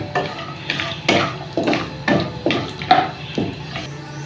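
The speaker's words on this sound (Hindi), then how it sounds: "बादाम और काजू हैं इसको भी डाल के थोड़ा सा रोस्ट करेंगे" Almonds and cashews being lightly fried in a pan while a spoon stirs them in a steady rhythm of scrapes and clinks, close by, with a soft sizzle underneath.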